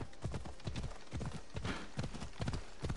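Rhythmic clip-clop of horse hooves trotting steadily in a video game, close and fairly even in pace.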